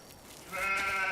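Sheep from the video game Farming Simulator 15 giving a single short, wavering bleat that swells in after a faint start, close and fairly loud with no speech.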